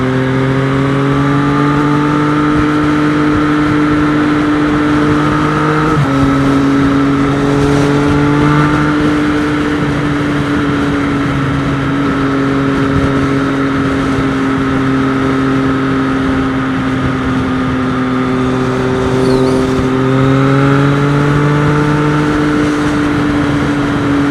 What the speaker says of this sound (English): I'm not sure if the camera's picking up all this engine noise